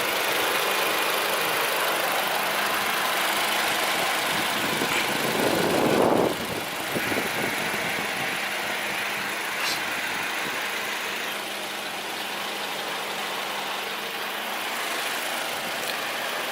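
A brand new car's engine idles steadily with the hood popped open, a continuous mid-range hum holding near and even throughout, with a brief louder rustle partway through.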